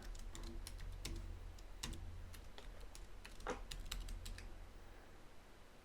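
Fingers typing on a computer keyboard, a quick uneven patter of light key clicks close by in a quiet room, with no voices.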